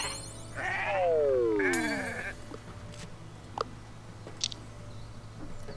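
Sheep in the video game Renowned Explorers bleat several times in quick succession, close and clear, with drawn-out wavering cries, followed by faint game clicks and chimes.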